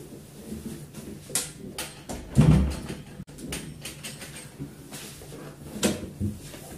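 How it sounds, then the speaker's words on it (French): A door opens and closes with a creak as someone steps out through it, giving a few soft knocks and a louder thump in the middle over a quiet room. "J'ouvre la porte, je sors."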